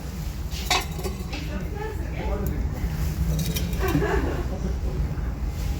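Metal pots are handled at an estate sale, giving a few light clinks and knocks scattered under a person talking nearby.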